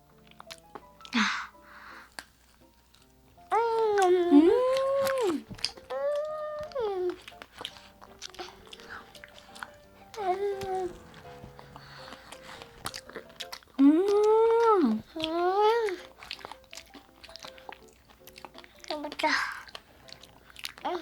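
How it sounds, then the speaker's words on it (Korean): A child chews edible candy shaped like a dish sponge, soft close-up chewing and munching that recurs throughout, mixed with frequent hummed 'mmm' sounds and brief vocalizing. "건우 잘 먹네"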